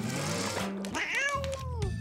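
A cartoon cat gives a couple of close, bending meows, high and whiny, with a brief splashy sound at the start.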